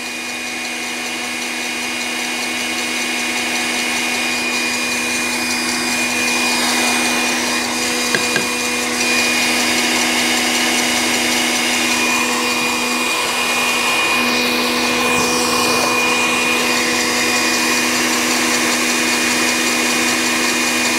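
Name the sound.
electric mixer whipping meringue for macarons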